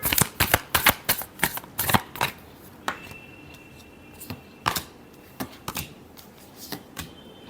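A deck of cards is shuffled in quick riffles, a rapid run of crisp flutters up close, then a pause before a few softer, scattered card snaps and taps.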